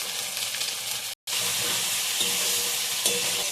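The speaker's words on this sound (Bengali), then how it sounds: "এই মশলাটা কষিয়ে নিলাম।" Spiced masala with salt, a little sugar and garam masala sautéed and stirred in a pan, a steady close sizzle with scraping stirs, briefly cut to silence near the start.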